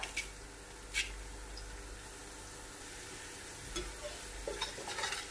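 Cumin, cloves and other whole spices frying in oil in a pot give a soft, steady sizzle, broken by a few sharp stirring scrapes, with no talking.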